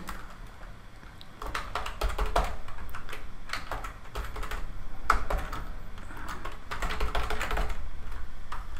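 Typing on a computer keyboard to enter a name, bursts of rapid clacking keystrokes close up with brief pauses between runs, alone without speech.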